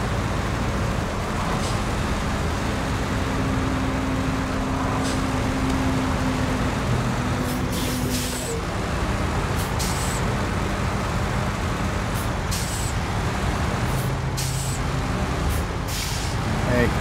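A P12 truck's engine strains and drones steadily in the snowy off-road game SnowRunner while stuck on an obstacle, a loud continuous rumble with brief hisses of air release.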